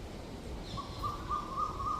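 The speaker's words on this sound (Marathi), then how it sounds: "एवढ्या उन्हात सुद्धा पक्ष्यांचा किलबिलाट सुरू आहे." Birds calling outdoors on a hot midday, a thin repeated call rising and falling over a steady low background rumble, fairly faint and distant.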